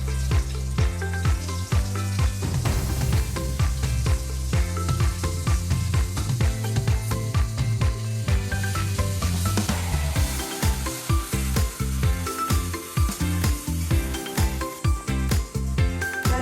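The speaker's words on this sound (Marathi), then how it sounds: "त्यानंतर हिरव्या मिरचीचं वाटण तेलात परतून घ्यायचे" Green chili paste sizzles steadily in hot oil tempered with mustard seeds, asafoetida and turmeric, a loud continuous frying hiss with occasional stirring clinks throughout.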